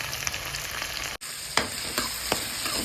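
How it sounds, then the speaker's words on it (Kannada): Chopped onions fry in a pan with a steady close sizzle, broken by a few stirring scrapes and one very brief pause, with no voices. "ಚೆನ್ನಾಗಿ ಇದನ್ನು ಫ್ರೈ ಮಾಡ್ಕೊಳ್ಳಿ."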